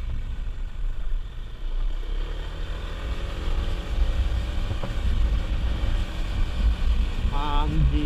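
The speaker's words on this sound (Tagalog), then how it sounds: "Mahangin dito, kahit mainit." Steady outdoor wind rumbles and buffets the microphone on a hot, breezy day in Silang, Cavite, with a low vehicle-like drone underneath and a brief faint tonal chirp near the end.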